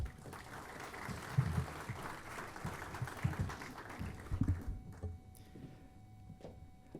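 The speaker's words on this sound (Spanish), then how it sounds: "Con un fuerte aplauso recibamos al doctor Peter Ríos." Audience at a pharmaceutical event applauds to welcome Dr. Peter Ríos: crowded clapping with some low thumps for several seconds, then thinning to a few scattered claps and quiet room noise.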